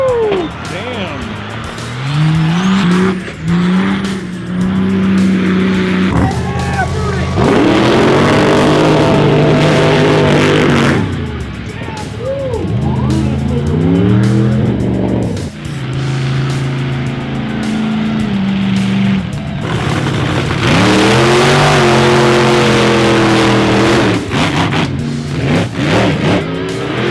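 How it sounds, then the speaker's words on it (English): Drag race cars in the finals at a monster truck event roar and rev in repeated loud, rising surges, with tires squealing and a crowd cheering and talking throughout. "So right now they're doing the finals on the drag race thing"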